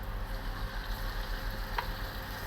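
Cubed chicken pieces sear in olive oil, giving a steady, low-level sizzle that runs without a break for the whole stretch, with no voices over it.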